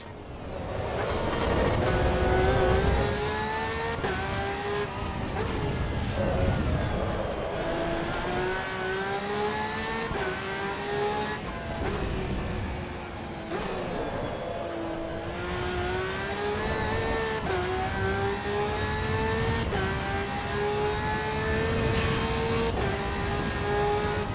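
Porsche race car engine in Assetto Corsa EVO at the Nürburgring, a sustained loud high-revving drone with rising and falling pitch through gear changes, steady throughout with no talk.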